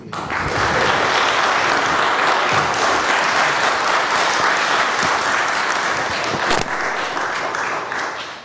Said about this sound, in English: Let's give a round of applause for the candidates